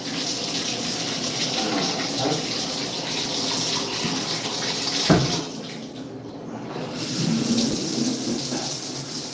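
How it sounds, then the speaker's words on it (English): A shower runs with a constant, dense hiss of spraying water that fills the whole stretch. There is one brief thump partway through and a slight dip afterward. "I'm gonna turn on the shower."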